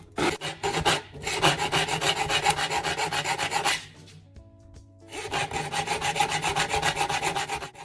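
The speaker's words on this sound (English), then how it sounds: "As the filing continues, the edges begin to reflect light." A file rasps rhythmically across the teeth of a handsaw blade in fast, close strokes, pausing briefly midway before the steady scraping resumes.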